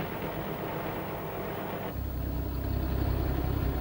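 Lorries and tractors hauling equipment inland over sand on an island during a 1952 operation, a steady low engine rumble that grows heavier and louder partway through, with no talk.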